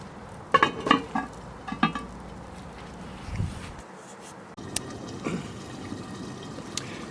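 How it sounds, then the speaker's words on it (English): A metal lid is set onto a pot of beef and red wine stew cooking over an outdoor fire, with a few sharp clanks early on, then quieter bubbling and faint clatter close by. "Let's get this lid on."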